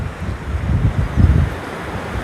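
Strong, cold wind gusting across a microphone on a mountain hiking trail in Slovakia's High Tatras, a loud low rumbling buffet that surges and eases with no voices.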